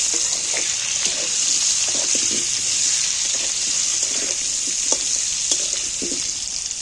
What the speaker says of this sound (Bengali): উনুনের জাল একটু কমিয়ে দিয়ে আস্তে আঁচেতে আলুগুলোকে নাড়াচাড়া করে লাল লাল করে ভেজে নেব